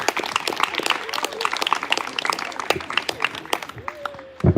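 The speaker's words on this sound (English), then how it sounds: "Round of applause one more time." Audience clapping after a children's school play at a showcase, a steady patter of many hands with cheers and voices mixed in, building toward the end.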